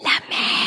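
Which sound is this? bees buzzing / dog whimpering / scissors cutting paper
dog whimpering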